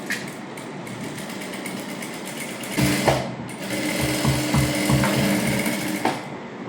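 A sewing machine stitches the neck of a child's princess-cut silk blouse with a close, rapid mechanical chatter. The chatter runs steadily, then picks up speed and gets slightly louder partway through.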